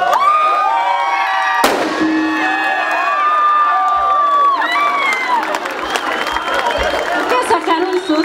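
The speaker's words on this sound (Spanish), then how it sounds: "Por favor, denle un aplauso, porque se la rifó" A concert crowd at a symphonic metal tribute show cheers and claps for the event organizer, loud and continuous, with a sharp bang early on and whistles and shouts over the applause.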